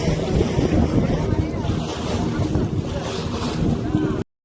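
A boat pitching on rough, heavy sea swells off Devbag beach, with constant roaring wind buffeting the microphone and churning water rushing around the hull, loud and close throughout before cutting off abruptly near the end.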